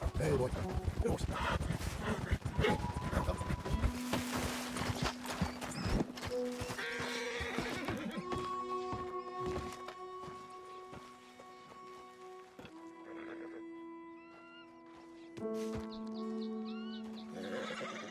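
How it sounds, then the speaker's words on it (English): A horse in the Red Dead Redemption 2 video game whinnies and snorts, with a few clip-clopping hoofbeats, while someone speaks to it over layered in-game ambience and music tones. "Hey, boy. Good horse."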